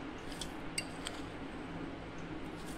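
Metal spoon clinking against a mixer jar as two spoonfuls of sugar go in for muskmelon juice, a few light close clinks over a quiet room hiss with no talking.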